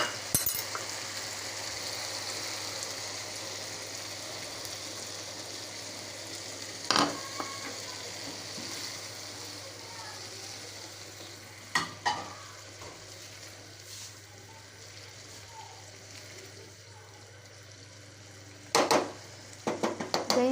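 Chicken curry sizzles and fries steadily in a pot after yogurt is added, with occasional clinks and scrapes of a stirring utensil against the metal.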